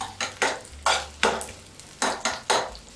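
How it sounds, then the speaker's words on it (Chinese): Shallots stir-fried over medium heat in a home kitchen, the spatula scraping the pan in eight quick, evenly spaced strokes over a soft, steady sizzle, close and alone. "红葱头15克下来， 用中火哦，慢慢的煸它"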